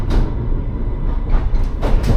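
A 1978 District Line D78 train, now running on the Isle of Wight, rumbles into a station with steady low wheel and motor noise and a few brighter surges of rail hiss, near and continuous.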